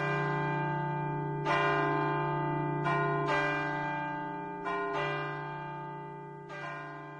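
Heavenly church bells ring in the ending scene of the film Breaking the Waves, with several deep resonant strikes at uneven intervals whose long ringing tones overlap and slowly fade, with no voices.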